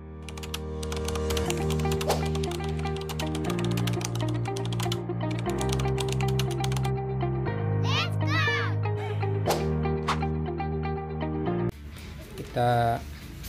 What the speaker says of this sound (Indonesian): Kita tes dulu aja keyboard barunya